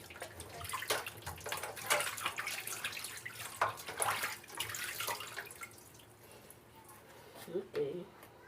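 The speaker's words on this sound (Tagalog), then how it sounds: "Hugasan muna natin ang ating" Peeled vegetables are rinsed under a running tap in a home kitchen while making creamy sopas, a steady splash of water with drips and handling noises, and voices talking over it.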